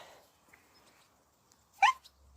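A dog on a lead out on a walk gives a single short, sharp yelp or bark, close and fairly loud, after quiet moments with faint rustling.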